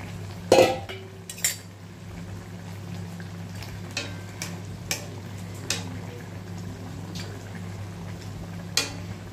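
Eggplant cooks in a pan with onion, tomatoes and garlic for a tilapia curry, giving a soft steady sizzle broken by a few close, sharp clanks and taps of a utensil against the pan.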